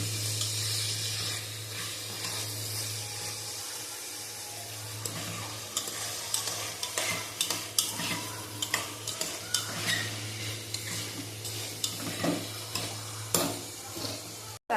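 Chopped onions and two medium tomatoes sizzle in a pan for chicken curry while a spoon stirs them. Constant frying hiss sits under a low hum, with frequent scraping strokes that grow sharper toward the end.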